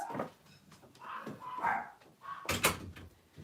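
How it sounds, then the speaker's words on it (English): A door thuds shut near the end in a loud, abrupt knock, following softer household rustles and a few yelps or animal noises indoors. "There, close that door."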